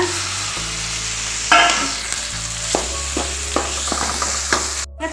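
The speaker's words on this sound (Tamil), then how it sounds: "இப்போ நம்ம தக்காளி சேர்த்து வதக்கலாங்க" Tomatoes sautéed with masala in a pan for leftover-idli egg kheema, a steady close sizzle broken by several clattering stirs of the spatula against the pan, no talking.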